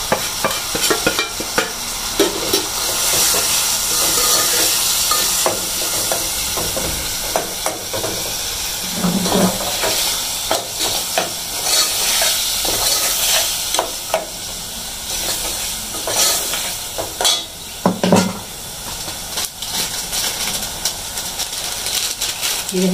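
Ginger, garlic, tomato and spices fry and hiss in a pan for dry moong dal namkeen, with steady sizzling and repeated scraping stirs, and a voice speaking at times.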